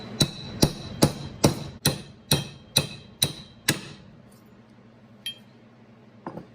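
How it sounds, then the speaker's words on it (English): Nine sharp metallic hammer strikes on a punch, knocking a pin out during a Toyota locker install, ring out at a steady pace, then stop; a couple of faint taps follow in the quieter tail. "punch down in there and just knock the pin out."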